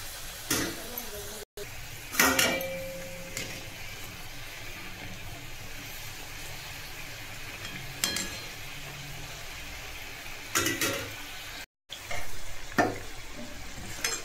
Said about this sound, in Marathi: मंद आचेवर तळून घ्यायचं आहे करंज्या, म्हणजे छान होतील.